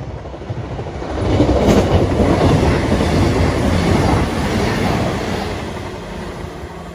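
A CrossCountry train passes through a station on a walk near Congleton, a loud rushing roar of wheels and carriages that swells after the first second and holds steady before easing slightly, heard close by outdoors.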